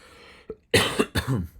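A couple of short, harsh coughs in quick succession, close and loud, preceded by a small throat-clearing sound.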